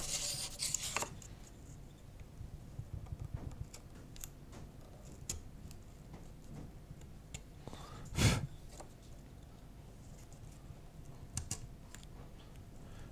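Sharp chisel carving splintery poplar (tulip) wood, heard as quiet, irregular ticks, scrapes and small chips across the stretch, with one louder knock near the middle.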